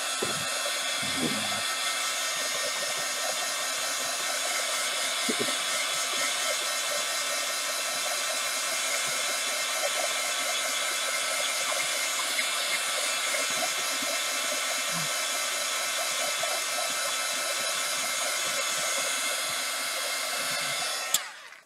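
Hair dryer blowing steadily and loudly for the whole stretch, a constant broadband whoosh with a motor hum underneath and no talking.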